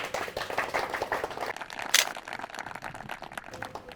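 An audience at a Hindi farmers' quiz show claps in a loose, moderately loud patter of overlapping hand claps, with one sharper burst partway through.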